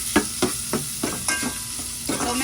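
Butter and hotdogs fry in oil in a pan while being stirred, a soft sizzle punctuated by about seven regular scraping strokes, close and without speech.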